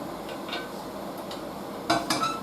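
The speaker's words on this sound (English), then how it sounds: "And a good stir round." A spoon is stirred around a deglazed pan of vegetables, giving a few soft scrapes and clinks, then two louder metallic knocks near the end over a steady background hiss.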